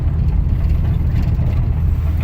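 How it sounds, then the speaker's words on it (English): Exhaust of a 1978 Trans Am T-top fitted with Dynomax Super Turbo mufflers, driven under load on a main road, a loud continuous low rumble heard from inside the car without any talking. "Let me get on the main road here so you could actually hear how they sound with some load to it."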